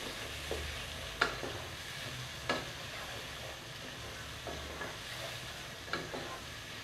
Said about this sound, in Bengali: খুব ভালোভাবে ভুনে নিতে হবে।